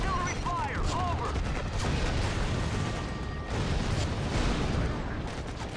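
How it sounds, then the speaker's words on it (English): Heavy artillery barrages and gunfire from the Act of War real-time strategy game rumble on continuously, with dense booms, faint radio-style voice chatter and whistling tones layered over the battle. "This vehicle's not built for artillery fire."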